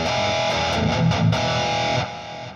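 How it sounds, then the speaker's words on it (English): Electric guitar run through a Line 6 Helix with the legacy '63 spring reverb, distorted chords and notes played in short strums, with a reverberant tail as the playing stops. "Let's just add in a good basic legacy 63 spring reverb."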